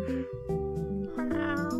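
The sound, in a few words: cat meowing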